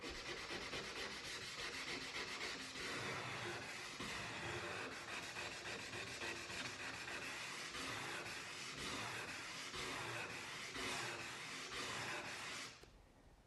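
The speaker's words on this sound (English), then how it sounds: "You may need to sand the scratches out without using the block." Scratches hand-sanded out of a sink without a block make a steady, rhythmic abrasive rubbing, close and continuous for about thirteen seconds before easing off at the end.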